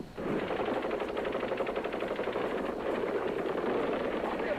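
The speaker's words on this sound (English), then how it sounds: "That sounds like a machine gun, dude." Rapid machine gun fire in news footage of a protest, a dense continuous rattle of bursts at moderate distance, steady throughout.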